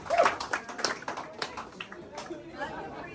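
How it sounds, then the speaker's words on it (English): Cast and crew clap and cheer to welcome guests into the Frozen-themed dining hall aboard the Disney Wish cruise ship at Christmas. The applause is close and scattered, mixed with lively crowd chatter and voices throughout. "you get a full round of applause welcoming from the cast and crew as you are walked into the dining hall"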